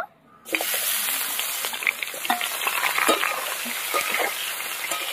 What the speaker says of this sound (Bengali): চিংড়ি মাছগুলো এবার ভেজে নেব।